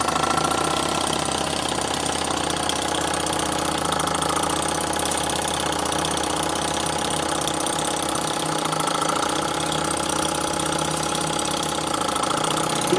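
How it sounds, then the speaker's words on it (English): An old Boucher S62 engine runs steadily at about 30 psi with a continuous rapid mechanical clatter and hum, loud and close, holding an even rhythm throughout. "there's the Boucher running. It's about 30 psi"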